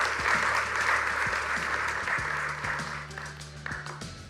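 An audience applauds a pair being welcomed onto a stage at a live event, with steady, dense clapping throughout and a low rhythmic musical pulse underneath.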